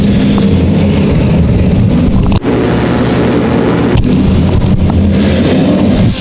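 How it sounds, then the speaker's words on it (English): Modified race cars roaring around the dirt oval at Evans Mills Motorsports Park during a feature race, a loud continuous engine roar filling the air with brief dips as the field passes. "What a field of modifieds."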